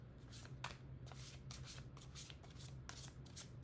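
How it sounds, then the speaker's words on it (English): Tarot cards shuffled by hand in a steady run of soft riffling bursts, close to the listener, with a low steady hum underneath and no talking. "I'm going to shuffle one more time"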